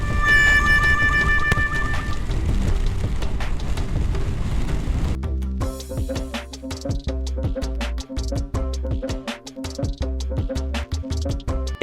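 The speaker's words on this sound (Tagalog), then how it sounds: "iba na tong ulan na to, medyo malakas na" Heavy rain pours down steadily and loud, with dense drumming that thickens partway through, during a Honda ADV 150 motorcycle ride near the sea in Quezon, with no voices.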